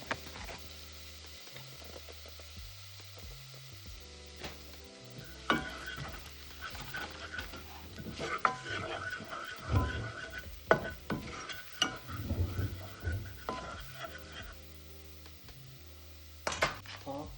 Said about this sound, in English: And then we're going to toast some curry.